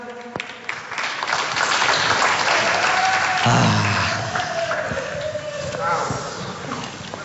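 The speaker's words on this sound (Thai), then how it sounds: "ขอเสียงปรบมือให้2คนนี้ด้วยนะครับ" A studio audience at a Thai singing reality show claps and cheers for two contestants, with broad, continuous applause mixed with crowd noise and voices talking over it, swelling in the middle.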